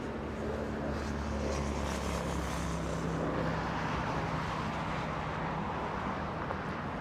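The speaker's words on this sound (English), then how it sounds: "We have a Southwest Airlines 737 waiting to begin taxi, flying to El Paso this afternoon." A Southwest Airlines Boeing 737-800 taxiing at LAX makes a steady, broad jet-engine drone that holds even throughout, heard from a distance with some wind rumble and no voices.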